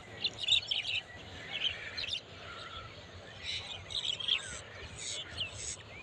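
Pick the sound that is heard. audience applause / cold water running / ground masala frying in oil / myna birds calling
myna birds calling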